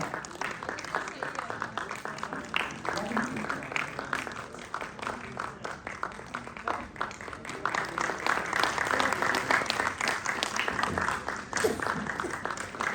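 Audience applause at an international yoga conference in Haridwar, a steady spread of clapping that lasts throughout and swells louder toward the end, with voices talking over it.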